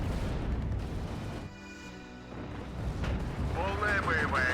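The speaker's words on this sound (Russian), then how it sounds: "По нам стреляют!" Gunfire and explosions in a war video game, dense booming blasts and rattling shots running nearly the whole time, with a brief lull in the middle and voices heard over the combat.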